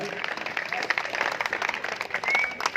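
Audience applause opening a power lifting bench press competition, a moderate mixed wash of clapping with a voice talking over it near the end.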